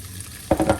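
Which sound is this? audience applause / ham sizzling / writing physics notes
ham sizzling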